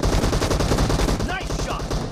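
Rapid, loud gunshots from an S12K shotgun in the PUBG Mobile video game fire in quick succession, a dense run of blasts with a brief game voice sound partway through.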